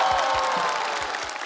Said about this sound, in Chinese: 掌声谢谢